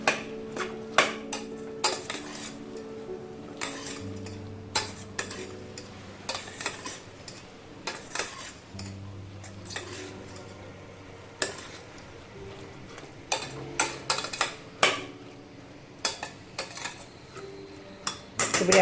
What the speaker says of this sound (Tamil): அரிசியை போட்டு கொஞ்சம் நல்லா அந்த காய்கறி மசாலாவோடு சேர்த்து இந்த அரிசியை நல்லா கொஞ்சம் நேரம் நல்லா அப்படி கிண்டி